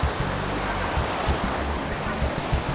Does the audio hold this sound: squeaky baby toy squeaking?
no